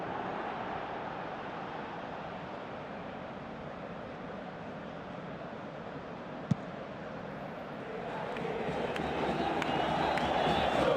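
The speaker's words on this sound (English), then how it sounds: "you can hear how the crowd are reacting to this too" A stadium crowd in an Xbox 360 football game of the Argentine league hums as a constant, fairly faint roar that swells toward the end, with a single sharp tap in the middle.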